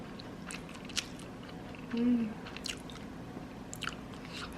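Someone eating eggs, with soft biting and chewing sounds at close range, faint and intermittent against a quiet room background, with a louder squishy bite about midway.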